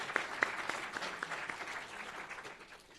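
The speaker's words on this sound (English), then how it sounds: "Let's have a round of applause for them too." A crowd at a law school moot court competition final applauds steadily, the clapping fairly close and gradually fading toward the end.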